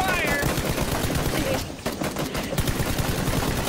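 A teammate fires a gun in PUBG: a loud, dense burst of rapid gunfire that runs almost without pause, dipping briefly near the middle before resuming.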